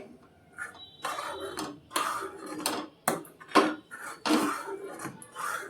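A spoon scrapes and clinks against a cooking pot as thickened milk is stirred for chhanar payesh, a series of distinct knocks and scrapes at an uneven pace, close and clear.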